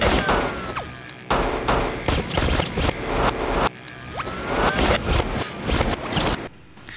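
Rapid bursts of gunfire crack through a tense action scene, loud and near, with sharp volleys falling in irregular clusters and brief gaps between them.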